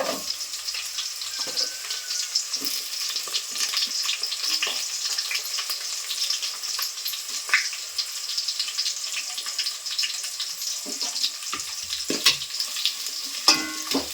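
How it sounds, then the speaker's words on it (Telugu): Onions with green chilies fry in a pan for tomato rice, a loud continuous sizzle with scattered crackles and occasional stirring scrapes throughout, no talking. "బాగా వేగనివ్వాలి ఒక ఐదు నిమిషాలు"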